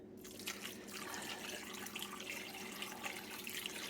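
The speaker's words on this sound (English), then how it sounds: "what I'm going to do is add about 4 cups of water on top of it" About four cups of water pour steadily into a pot of homemade dog food, a continuous splashing, gurgling stream heard up close with no talking.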